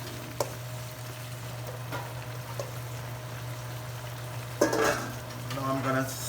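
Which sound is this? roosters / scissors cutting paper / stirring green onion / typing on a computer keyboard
stirring green onion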